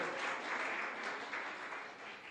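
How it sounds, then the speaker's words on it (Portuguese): A church congregation claps together in a dense, steady wash of applause that holds at an even level from start to finish, with no voices rising above it. "Se você concorda comigo, pode aplaudir o Senhor Jesus"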